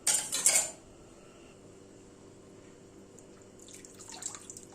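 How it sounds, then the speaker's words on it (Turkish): Boiled börek dough is tipped into a metal colander with a short burst of clattering metal and splashing water, followed by quiet dripping and faint kitchen clinks. "haşlanan hamurumu şöyle bir süzgecin üzerine alarak fazla suyundan arındıracağım"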